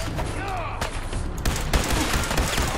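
Gunners firing guns in the video game Fallout 4, bursts of rapid automatic gunfire and shots overlapping in a dense, loud barrage, with game noise and a voice in the mix.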